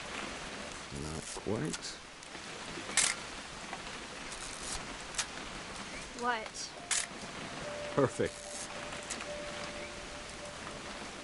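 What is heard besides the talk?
rain falling outdoors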